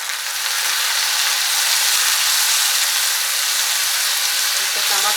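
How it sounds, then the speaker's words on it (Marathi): Tomatoes and onion fry in hot oil with a steady, bright, close sizzle that holds at the same level throughout, with nothing else heard over it. "हे टमाटर कांदा भाजले तेलामध्ये, आता टमाटर मऊ झाले बघा असं।"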